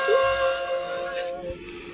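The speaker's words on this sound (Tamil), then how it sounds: "ட்ரெயின் சவுண்ட் போல இருக்கு." A loud, close steam-whistle-like hiss with a bright, train-like tone, holding steady for just over a second before cutting off abruptly, leaving a low rumbling residue.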